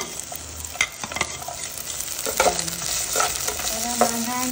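Onion and chili are sautéed for a spicy chicken soup, a close frying sizzle with repeated spatula scrapes and knocks against the pan, steady and loud, no speech.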